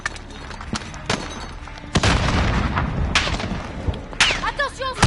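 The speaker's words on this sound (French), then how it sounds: "Grenade." Repeated booms and gunfire crack through a video game battle, with a heavy grenade-like blast near the middle followed by a rumbling tail, and voices calling out amid the shooting.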